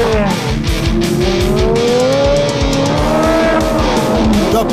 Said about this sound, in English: Tight rights and lefts. Tanner's Porsche is increasing his lead.